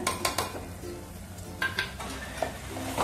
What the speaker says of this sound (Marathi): चांगलं हलवून घ्यायचंय